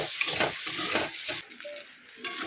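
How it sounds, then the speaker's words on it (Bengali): Chilli, onion and potato fry in a pan for chowmein, a close, loud sizzle with rapid stirring scrapes, dropping to a quieter crackle partway through. "এখানে লঙ্কা পেঁয়াজ আলু ভেজে নিচ্ছি"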